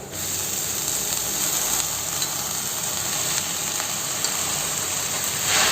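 Amaranth greens frying with onions in a pan, a dense continuous sizzle close up and fairly loud, steady throughout without talk.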